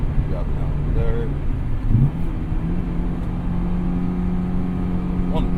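Honda S2000 AP1 engine downshifting into third gear, a loud continuous cabin drone with a short rev change near the middle and steady rumble throughout, a driver talking over it.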